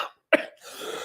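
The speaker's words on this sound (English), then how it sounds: "And there's the cough." A single sharp, close cough bursts out after a short silence, followed by low murmuring background noise.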